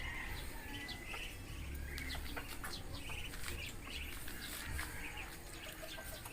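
Ducks call in a rural province alongside other fowl and birds, with a busy outdoor mix of quacks, clucks and chirps against steady background noise.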